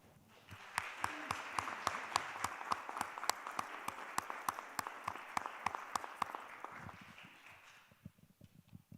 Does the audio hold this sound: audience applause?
yes